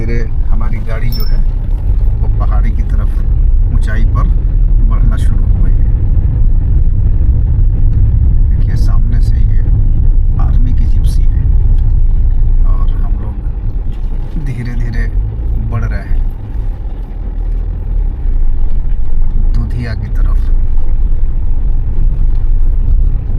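A car climbs slowly up a mountain road near Siliguri toward Dudhiya, its steady low engine rumble running throughout beneath continuous talking from people inside.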